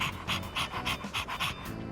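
A dog in the video game Persona 3 Reload pants in quick, rhythmic bursts, about eight short breaths close up and fairly quiet, with no talking.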